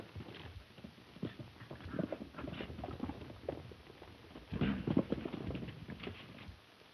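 Horse hooves clip-clop in a 1932 Western as a rider moves off, a steady patter of soft, fairly faint hoofbeats on the ground that swells slightly toward the end, with no voices.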